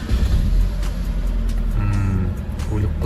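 A Chevrolet Captiva that sat unused for a year, with its transfer case disconnected, runs with a steady, loud low engine rumble close by. The pitch shifts slightly partway through, and voices murmur faintly underneath.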